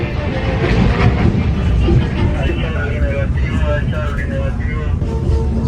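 Passengers ride a train toward Machu Picchu, the carriage giving a loud, continuous rumbling and rattling drone, with voices talking now and then.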